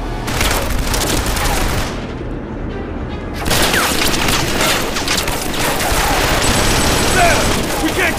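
Sustained machine-gun fire and booms from a Killzone 3 battle, loud and continuous with dense rapid bursts, a brief lull near the two-second mark, then heavy firing resumes, with shouted voices mixed in.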